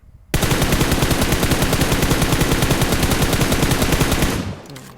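A loud, unbroken burst of rapid automatic rifle fire from a crouching position in PUBG Mobile starts abruptly, holds a steady fast rhythm for about four seconds, and then fades out.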